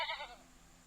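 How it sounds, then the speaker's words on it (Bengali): A goat gives one short, fairly loud bleat that quickly fades, leaving a quiet background with no other sound. "G for goat."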